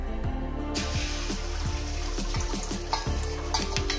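An egg fries in hot oil in a pan with okra, a steady close sizzle and crackle with a few soft clinks of a utensil, with no talk.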